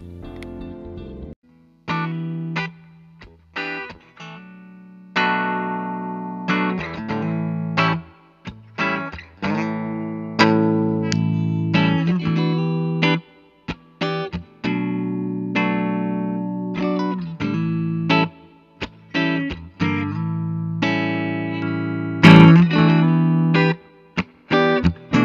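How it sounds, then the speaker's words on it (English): A 1979 Gibson Les Paul electric guitar played through a Marshall JMP1C preamp with a distorted tone. Loud, sustained chords and single notes ring out in short phrases with brief pauses between them, and the instrument plays alone. "For distorted tones, we'll be running through a Marshall"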